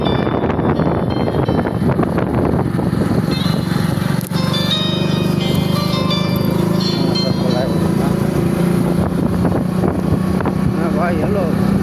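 A trawler boat engine runs steadily throughout, a continuous low drone with wind noise over the microphone and voices talking intermittently on board.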